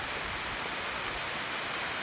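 Steady, even hiss of rainfall, constant through the whole stretch with no voices or other sounds standing out.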